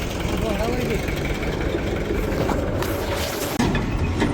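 A tractor engine idles steadily and loudly up close, a low continuous rumble throughout with a brief dip near the end.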